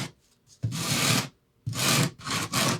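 Sandpaper rubbed along the wooden leading edge of a scratch-built RC plane wing, three close, rough swipes with a brief pause between them.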